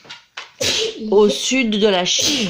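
A single sharp sneeze bursts out near the microphone, followed at once by close conversational speech in a quiet indoor setting.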